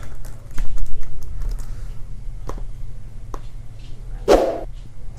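Scattered keystrokes tapped on a computer keyboard, light and irregular over a steady low hum, with a short dog-like yelp near the end.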